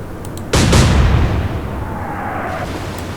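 A heavy naval gun salvo booms out once in the Atlantic Fleet game's submarine attack, loud and sudden, followed by a long rolling rumble and a fading whistle-like tone.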